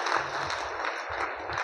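Audience at a Hindi-language business seminar applauds, a steady wash of many hands clapping at moderate distance, fairly soft with no talk over it.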